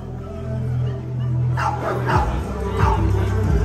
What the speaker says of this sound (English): That's a huge dog, man.